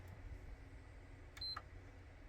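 A single short electronic beep from a faulty PS5 that won't power on, faint and high-pitched, rises briefly over a quiet, steady background hum.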